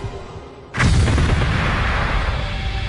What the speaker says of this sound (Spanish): A las 3:22 de la tarde, una terrible explosión sorprende a todos